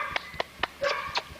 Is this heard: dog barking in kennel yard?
yes